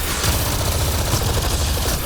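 Rapid gunfire in Mass Effect: Andromeda on the planet Meridian, a dense, steady barrage of shots and booms filling the whole stretch at close range without a break.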